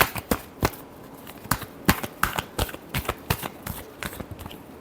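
Tarot cards are shuffled by hand in a quick run of crisp, close riffling flicks and slaps, irregular bursts repeating for several seconds without any talk.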